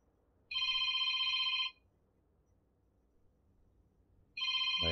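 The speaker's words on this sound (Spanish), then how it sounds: "Lo siento, chicos, por el teléfono" A telephone rings in two loud electronic bursts, about a second long each, separated by a few seconds of quiet, during a session of the base-building game Planetbase.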